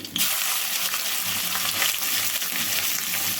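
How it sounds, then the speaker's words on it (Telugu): Ivy gourd pieces fry in a hot pan with a tempering of dried red chillies and curry leaves, giving a steady, close sizzle with scraping stir sounds throughout. "చూడండి, దొండకాయ ముక్కలు ఇట్లా వేసేసాం కదండి. ఇట్లా కలుపుకోవాలి."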